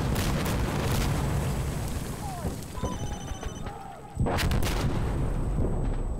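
Heavy gunfire and booming blasts from the video game Insurgency: Sandstorm roar continuously and loud, with a sharp renewed burst near the end amid a dense wash of battle noise.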